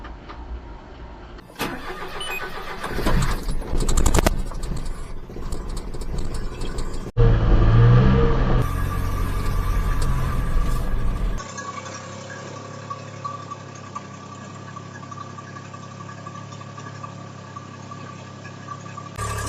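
A mini truck starts up and drives in four-wheel drive on a cold day, its mid-pitched engine running steadily at close range with road and mechanical noise, the drone settling into an even hum.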